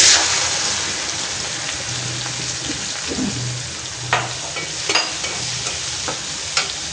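Spice paste frying in a hot pan, a continuous close sizzle with scattered sharp clicks and scrapes of a spoon stirring, no voices.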